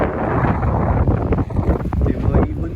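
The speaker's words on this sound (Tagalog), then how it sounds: "tsaka ang lakas ng hangin." Gusty wind roars loudly across an open outdoor spot in Santo Tomas, Batangas, on a drizzly morning, with heavy microphone buffeting and a brief dip mid-way.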